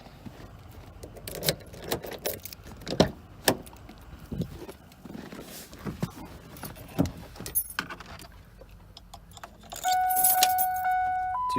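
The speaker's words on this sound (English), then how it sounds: "This is the last cold start of the trip" Keys jangle and rattle with door clunks before a twin-turbo 302 car engine cold-starts near the end, settling into a loud steady idle.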